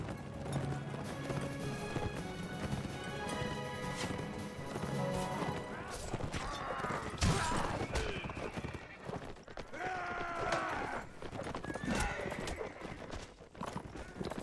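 Horse hooves clip-clop at a gallop with an occasional neigh during a medieval battle in the video game Mount & Blade: Warband, loud and continuous amid clashing combat noise and some talk.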